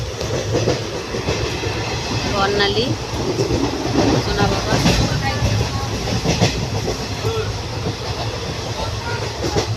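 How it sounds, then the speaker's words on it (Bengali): A moving passenger train on the line to Bardhaman rumbles with a steady, loud rattle of carriages and wheels throughout, while nearby voices talk over it. "ট্রেন ছেড়ে দিয়েছি"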